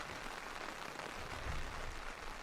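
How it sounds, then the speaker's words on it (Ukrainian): Rain falling outdoors as a dense, soft, even hiss with a faint patter, steady and diffuse with no voices over it. "Я чую звук дощу вдалечині."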